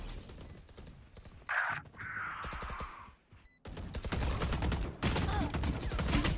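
Gunshots in a round of the tactical shooter Valorant, a busy stretch of sharp, rapid cracks that mostly come in bursts and fill the clip, broken by a short lull near the middle.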